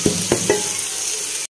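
Garlic paste and tomatoes fry in a pan with a loud, steady sizzle; three quick stirring strokes sound early before the sound cuts off abruptly.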